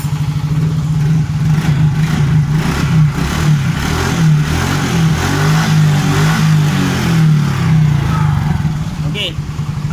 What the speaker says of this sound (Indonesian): Motor nyala